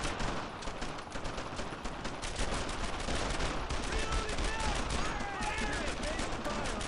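Dense, continuous gunfire from the World War II shooter Brothers in Arms: Earned in Blood, with rapid rifle and machine-gun bursts layered in a loud, sustained battle din and faint whistling streaks toward the end.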